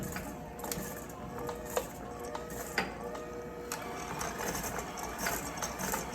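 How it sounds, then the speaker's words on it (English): Electric hand mixer starting at low speed in a bowl of chocolate chip cookie dough with flour being added, a steady motor whir with soft scraping and a few sharp knocks against the bowl, moderately close. "Again, start off low speed"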